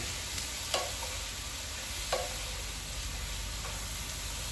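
Diced jalapenos, onions, pepper and garlic sizzle in an electric skillet with a steady soft hiss, while a utensil scrapes through them in a few quiet, spaced strokes.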